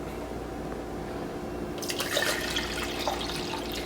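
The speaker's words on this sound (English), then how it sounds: "Take a smaller shaker cup, and I'll pour like a third of it. A third of it into the cup." A drink is poured into a smaller shaker cup, giving a splashing, trickling stream of liquid that starts partway through over a steady background hum.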